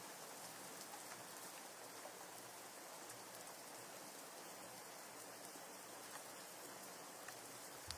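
Steady rain falls in a dense, even hiss of drops on surfaces, continuous and soft without pause, and nobody speaks.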